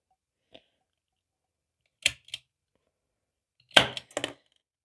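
A few sharp cracking pops from a cap gun modified to fire pellets, spaced apart, with a faint click first and a louder double burst near the end.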